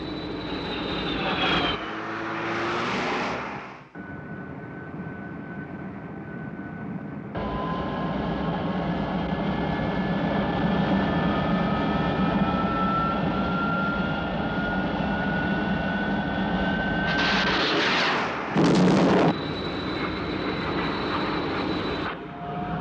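Angel interceptor jet aircraft attacking an SPV near Nuclear City, a loud sustained engine roar with rising whines and brief bursts, steady and close throughout.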